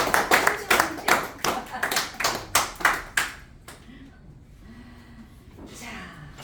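A room full of people clapping in a lecture hall, a dense burst of applause from many hands that fades out after a few seconds, leaving quiet room tone.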